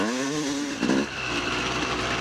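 A two-stroke motorcycle engine buzzing loudly under a close rider, steady high revs with a short rise in pitch as it pulls through the midrange.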